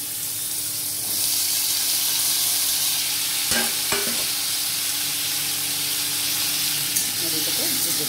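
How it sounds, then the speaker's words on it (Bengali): Potatoes tipped into a pan of hot oil with panch phoron fry with a steady, loud sizzle, broken by a few quick metallic scrapes as they are stirred, close up and continuous. "এবার আমি আলুগুলো দিয়ে দেবো"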